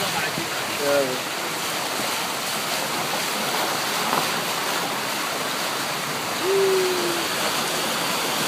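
After heavy rain in Hargeisa, Somaliland, floodwater rushes toward the sea with a broad, steady roar. Brief faint tonal calls rise over it twice.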